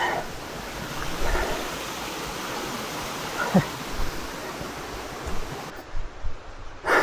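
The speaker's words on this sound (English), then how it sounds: "A waterfall." A waterfall on the Wendy Trail in Southern California gives a steady, broad rush of falling water that fills the whole clip, with a few brief louder knocks and rustles near the end.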